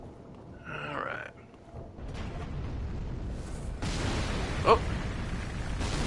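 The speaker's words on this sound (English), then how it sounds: "The force of the explosion opened a path down" An explosion in Dark Souls 3 rumbles as a broad roar that swells and holds for several seconds with a sharp crack midway, and a voice gives a short exclamation just before it.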